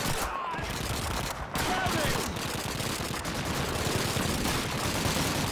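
Heavy continuous gunfire in the World War II shooter Call of Duty 2, loud and relentless with overlapping rapid shots and a brief dip early on, no talk heard over it.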